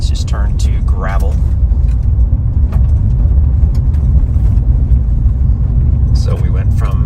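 Car rolling along a rural county gravel road, a steady low rumble of tyres and engine from inside the cabin, with brief bursts of talk at the start and end.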